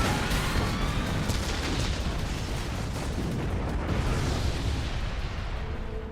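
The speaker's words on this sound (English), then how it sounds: "She sets off a trigger, exploding the entire stadium." A massive explosion destroys an entire stadium in an anime, a dense, sustained roar of blast and rumbling debris filling the whole stretch at steady loudness, with no voices.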